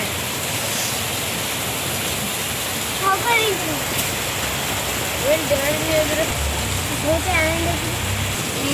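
Steady torrential rain hisses throughout, with a few chirping bird calls and faint voices rising briefly over the downpour.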